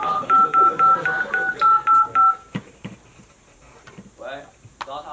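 Mobile phone keypad dialing tones as a sound effect in a student skit, a quick series of about nine even beeps close and clear, followed by brief clicks and a short voice.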